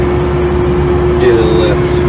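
A Walz LS 250 engine set to high idle drones steadily with a strong constant hum. A faint higher whine rises briefly near the end.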